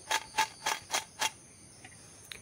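Crispy fried raw banana slices are crunched in five sharp, evenly spaced bites close up, followed by near silence with a couple of tiny clicks.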